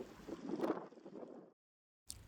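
Outdoor wind buffets the microphone in a steady rumbling roar for about a second and a half, then cuts to silence before a brief gust returns.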